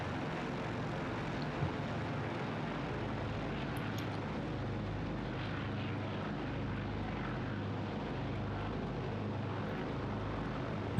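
A Boeing 247D propeller airliner from 1935 in Microsoft Flight Simulator 2024, throttled back to about 2000 RPM, gives a steady, even engine drone that stays constant throughout with no other sounds.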